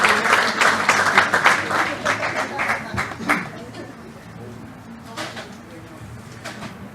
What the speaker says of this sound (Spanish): le pedimos un fuerte aplauso para que nos inicie con su clase para el día de hoy